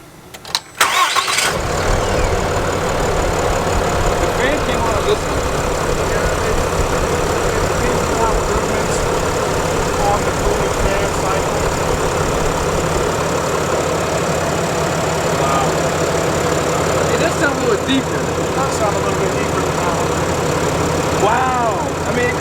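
A 2024 RAM HD truck with a Cummins diesel engine is fired up and then settles into a steady, loud idle close by, with people talking now and then over the running engine.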